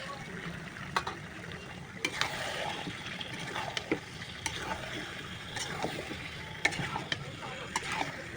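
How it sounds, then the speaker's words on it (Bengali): Cut, washed chicken sizzles in a pan, a low steady frying hiss with frequent stirring clicks and wet spatters, fairly quiet and close. "আর দিয়ে দেবো কেটে ধুয়ে রাখা মাংস"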